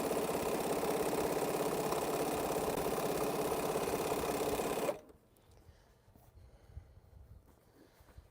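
A sewing machine stitches quilt blocks with a steady, fast, loud mechanical whir that runs continuously for about five seconds, then stops abruptly, leaving only faint handling noises.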